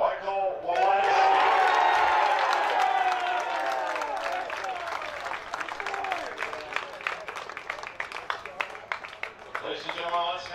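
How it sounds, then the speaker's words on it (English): A crowd at an NCAA Division III baseball Mid-East Regional all-tournament awards ceremony breaks into loud cheering and applause that gradually thins into scattered claps, with voices audible throughout. "let's have a round of applause for the 2008 NCAA Mid-East Regional All-Tournament team and these deserving student athletes."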